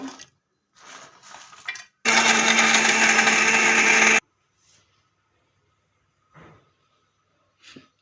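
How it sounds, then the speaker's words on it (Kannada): A kitchen mixer grinder blitzes spice masala with a little water in one loud, whirring burst of about two seconds, framed by faint handling knocks and quiet pauses before and after. "ಇವಾಗ ಸ್ವಲ್ಪ ನೀರು ಹಾಕ್ಬಿಟ್ಟು ರುಬ್ಕೋಬೇಕು"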